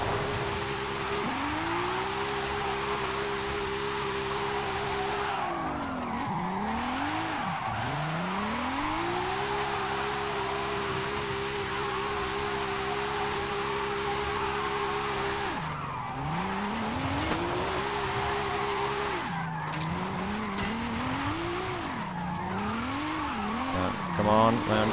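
Jaguar XKR-S GT racing in Forza Horizon 5: a loud, sustained engine note climbs and drops through repeated gear changes and revs, with someone talking over it throughout.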